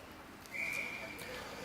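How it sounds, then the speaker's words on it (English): A referee's whistle at a youth ice hockey game, a single sharp, steady blast of about half a second, heard over the murmur of the arena. "We haven't had a whistle in some time, and there it is."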